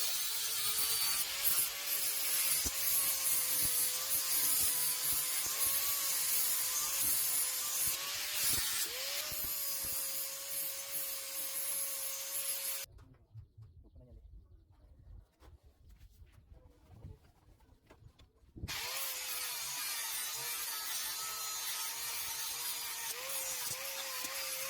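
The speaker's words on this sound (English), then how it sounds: "So yeah, let me try it with the grinder." Bench grinder working on a front wheel bearing, a steady loud whine with scraping contact, cutting to near silence for several seconds before the grinding resumes.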